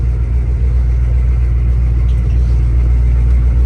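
A dually pickup truck, a project build parked beside an LBZ Duramax, rumbles steadily as it drives off around the block, its engine drone loud, close and unbroken with no talking.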